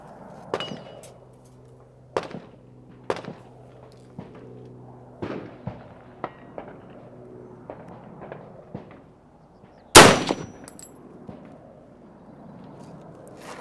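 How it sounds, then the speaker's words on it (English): Single rifle shots from a Smith & Wesson M&P 10 on an outdoor range, a handful of sharp cracks at irregular intervals with one loud close report near the end, amid faint background clatter. "let's go ahead and take a third shot and see where we're at here"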